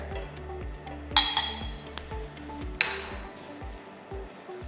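Sugar and cornstarch get stirred together in a bowl, with a utensil clinking and scraping against the dish in a quick, steady rhythm, a couple of brighter taps standing out, close and moderately quiet.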